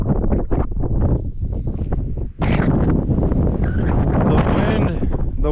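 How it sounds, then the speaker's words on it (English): Strong desert wind in Utah's West Desert buffets the microphone in loud, continuous roaring gusts, dipping briefly before surging back with rustling noise. "The wind will die down and then it picks right back up."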